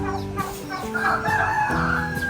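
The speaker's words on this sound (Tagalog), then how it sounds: "Maraming manok dito." Free-range chickens on a backyard farm, with a rooster crowing a drawn-out cock-a-doodle-doo over steady clucking from the flock, close and fairly loud throughout.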